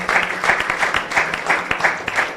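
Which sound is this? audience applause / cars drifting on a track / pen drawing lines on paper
audience applause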